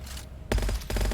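Laser weapon fire in the shooter game Gunfire Reborn, two bursts of dense rapid-fire shots, loud and close, with a brief gap between them.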